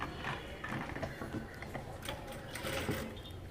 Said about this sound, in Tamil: இப்போ ஒன் சைடு வந்து நம்ம நெக் பகுதியை ஸ்டிச் பண்ணிக்கலாம்.